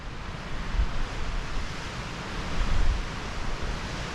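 Strong wind blows steadily across a mountain trail on Mount Rogers, a broad, loud rushing roar with gusty swells and low microphone buffeting, no voices.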